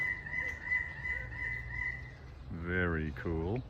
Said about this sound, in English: So cool aviary of birds in here.